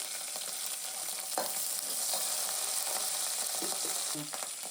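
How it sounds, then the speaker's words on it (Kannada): Green chillies, garlic and ginger fry in a hot pan for a village-style mutton blood fry, giving a steady, close sizzle with occasional stirring scrapes and no voices. "ಒಂದು ನಾಲ್ಕು ಹಸಿರು ಮೆಣಸಿನ್ಕಾಯಿ ಹಾಕ್ಕೊಂಡಿದ್ದೀನಿ ಹಾಕ್ತಾ ಇದ್ದೇವೆ"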